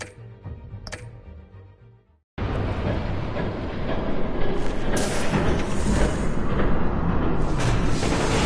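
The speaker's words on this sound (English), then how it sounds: "There's a train coming." Train in the Batman Telltale series game: a quieter stretch cuts to silence, then a loud, sustained rumbling rush of a train passing close with rattling clatter that builds toward the end.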